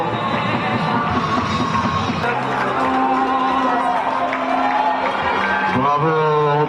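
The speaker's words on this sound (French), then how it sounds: "On peut l'applaudir s'il vous plaît." A crowd cheers and claps for the winners of an under-18 women's cup final, a loud, continuous wash of applause and shouts with a voice speaking over it at times.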